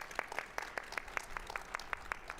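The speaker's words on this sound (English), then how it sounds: "Let's give them a round of applause." Sparse, distinct claps at a charity gala, a dozen or so evenly spaced hand claps, fairly faint and close.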